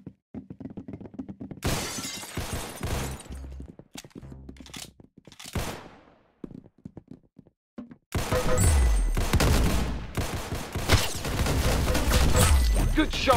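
Video game gunfire in Arsenal: bursts of sharp shots and shattering impacts, first scattered and separated by gaps, then a long loud sustained volley of rapid fire.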